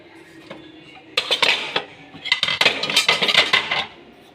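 Dishes, pots and utensils being washed in a home kitchen, with scattered metallic clinks and clattering bursts of cookware knocking together, fairly close and without speech.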